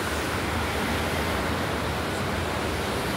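Flooded river swollen by upstream rain rushing past, a broad continuous roar of churning water, loud and steady with no voices.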